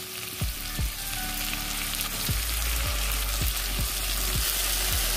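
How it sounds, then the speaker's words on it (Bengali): Pigeon meat frying in hot oil with bay leaves over a raised gas flame gives a loud, steady sizzle up close, with the occasional quick crackle as it is mixed. "এবার ভালো করে মাংসটাকে তেলের সাথে মিশিয়ে দেব।"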